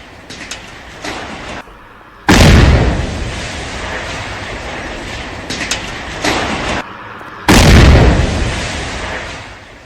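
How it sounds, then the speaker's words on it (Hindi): Controlled demolition of a house in Tral, Pulwama, Kashmir: two huge, sudden blasts a few seconds apart, each a sharp loud boom followed by a long rumbling roar of debris that slowly fades, with quieter crackling between. "पुलवामा के त्राल में लश्कर के आतंकवादी आसिफ शेख के घर को उड़ा दिया गया।"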